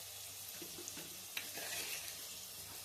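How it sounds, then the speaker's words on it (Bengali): Young jackfruit fries in a pan, a quiet close sizzle with a few soft stirring scrapes and light clinks over a steady hiss. "এবার একটু এঁচোড়টা ভেজে নেব।"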